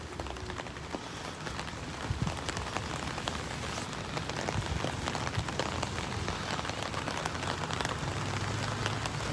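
Steady rain falling on a walk across Brisbane's Story Bridge on a wet afternoon, a dense, even patter of drops on surfaces close by, continuous with no talk.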